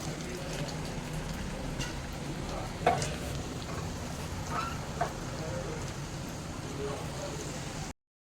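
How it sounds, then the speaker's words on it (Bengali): Garlic and dried red chillies frying in mustard oil for a dal tadka, a steady close sizzle with a few soft stirring knocks, under a voice speaking. "দেখুন রসুন আর শুকনো লঙ্কা খুব তাড়াতাড়ি ভাজা হয়ে যাচ্ছে"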